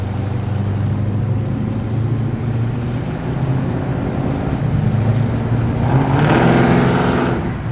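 A Subaru XT-GT accelerates away from a car show at Penrith Homemaker with a steady, loud engine drone that swells and brightens near the end as it passes.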